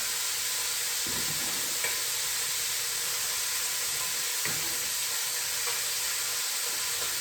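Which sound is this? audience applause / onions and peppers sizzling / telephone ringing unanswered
onions and peppers sizzling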